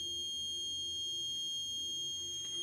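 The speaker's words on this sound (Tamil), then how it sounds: "இப்போ நான் இன்னும் க்ளோஸ்அப்பில் எடுத்துப்போனால் அலாம் அதிகமாக அடிக்கும்." A homemade LPG gas leak alarm sounds with a steady high-pitched electronic tone, faint and continuous, with a couple of brief clicks near the end.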